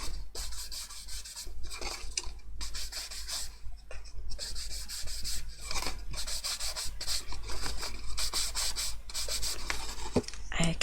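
A brush dragged across scrap black paper to make a brushed texture gives short dry scratchy rubbing strokes, repeated in bursts with brief pauses, close and fairly crisp, with no talking.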